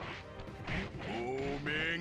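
Fiery Wheel attack in the video game Sly Cooper and the Thievius Raccoonus: a burst of whooshing, crackling game effects with a smashing hit, layered under a character's voice calling out.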